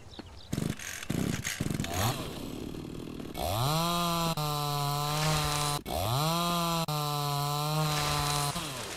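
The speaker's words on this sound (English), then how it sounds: "So first things, yes, I need a chainsaw." Chainsaw cutting in the survival game Mist Survival: loud engine revs build into a sustained high whine that dips once as the cut pauses, then resumes steadily, heard alone without talk.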